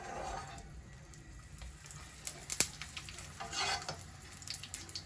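A chapati fries in oil on a pan, a close crackling sizzle with scattered pops and spits that swell briefly midway, steady and moderately quiet throughout.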